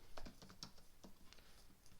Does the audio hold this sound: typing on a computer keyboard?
yes